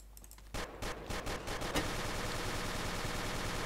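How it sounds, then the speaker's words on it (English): Rapid gunfire in the blocky shooter Ace of Spades, a dense, continuous stream of shots that starts after a brief lull and keeps rattling loud and steady to the end. "so many bullets"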